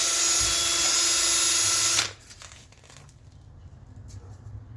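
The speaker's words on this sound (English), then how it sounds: "just run your drill, and that'll clean your slide up just like that" A power drill whirs loudly at high speed for about two seconds, polishing a disc brake slide, then cuts off, leaving quiet rustling and handling noise.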